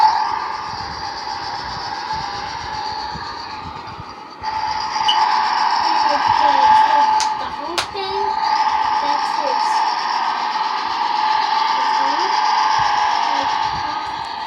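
Electronic engine sound effect from a Speedway toy truck: a steady buzzy, whirring drone that runs unbroken for about fourteen seconds and grows slightly louder partway through. No voices.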